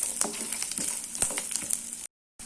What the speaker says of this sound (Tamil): இப்போ இதை போட்டுடலாம். பூண்டு கொஞ்சம் வதக்கிக்கலாம்.